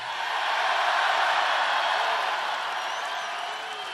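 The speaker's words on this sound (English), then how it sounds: "It's a phenomenal crowd" A large crowd at a political rally in North Charleston, South Carolina, cheering and applauding in a steady, broad roar that swells and then eases slightly, heard from a distance without clear speech.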